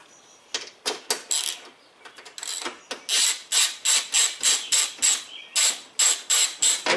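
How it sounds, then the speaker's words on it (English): Ratchet wrench removing a 10mm bolt from a 2006 Ford F150 front door bracket, close and crisp, starting with scattered clicks and then settling into a steady rhythm of about a dozen sharp ratcheting bursts. "So I'm going to remove that bolt."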